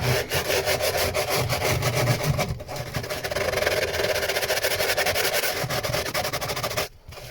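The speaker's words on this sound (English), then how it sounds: "So I have to turn the heater off to use the sander." A power sander works on the underside of a boat deck, giving a steady, loud abrasive whir with a woody rubbing texture throughout, cutting out briefly near the end.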